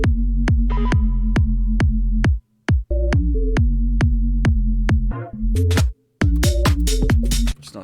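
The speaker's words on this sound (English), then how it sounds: "I literally just took out the drums and played the kick, and it sounds like this." A lone UK garage kick drum from an FL Studio second drop with the other drums stripped out, thumping in a bouncy, syncopated pattern of deep, punchy hits with a few brief gaps.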